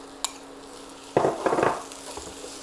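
Minced paua sautés with fried onions in a pan, a faint background sizzle broken by a sudden cluster of stirring clatters and scrapes midway, then quieter rustling.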